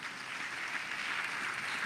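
A church congregation claps during a sermon, a steady, even patter of many hands lasting the whole moment, fairly faint and distant.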